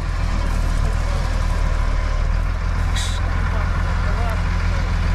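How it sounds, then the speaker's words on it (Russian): Tractor engine running steadily nearby, ready to tow a sunk Chevrolet Niva, a loud continuous low rumble with people talking over it. "Приехал трактор. Цепляем. Будет тянуть."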